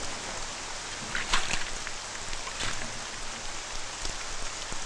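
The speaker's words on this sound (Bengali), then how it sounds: "বৃষ্টি পড়ছে।" Steady rain falls in a dense, even hiss, with occasional louder drips and splashes rising briefly above the wash of water.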